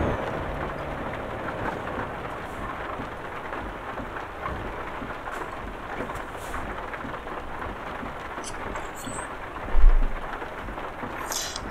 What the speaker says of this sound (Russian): Что-то дождик-то заметил хороший к вечеру